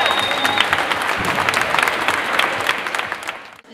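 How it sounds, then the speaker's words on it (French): Crowd applause at a local Leucan charity head-shaving fundraiser, dense clapping sustained for several seconds and then cutting off abruptly at the end. "on l'applaudit"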